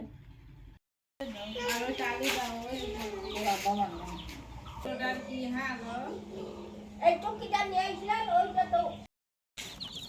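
Chickens cluck and squawk in agitated bursts while people shout and talk nearby, the commotion rising and falling.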